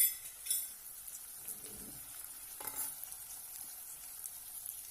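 Chickpeas and peas fry in a pan, giving a soft, steady sizzle with occasional stirring scrapes and a few light clinks of utensil against metal, close by and without talk.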